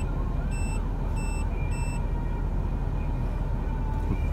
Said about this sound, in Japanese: なんだね、今のプップのブザーは。